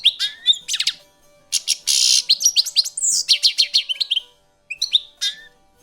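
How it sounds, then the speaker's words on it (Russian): A starling sings and calls alone in a rapid run of varied whistles, chirps and squawky notes, loud and close, pausing briefly near the end before a few more chirps. "Эй, скворец, спускайся вниз."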